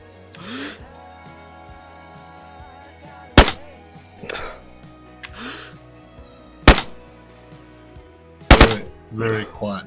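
Suppressed rifle shots in the survival game Screaming Dayz, three or four sharp muffled cracks spaced a few seconds apart over a quiet low hum, with a short burst of sound near the end.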